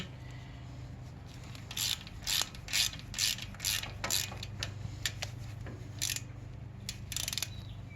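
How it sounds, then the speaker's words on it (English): Ratchet with a T50 bit clicks in short bursts while a brake retaining bolt is tightened on a 2011-2018 Volvo S60/V60, close and fairly quiet, irregular strokes over a low hum. "you're going to need your T50 again to get this retaining bolt back on"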